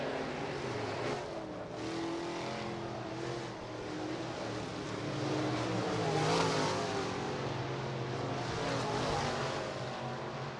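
Sportsman and B-Mod race cars roar around the Rapid Speedway oval during a heat race, a steady loud engine drone that swells as the pack passes, with no talk over it.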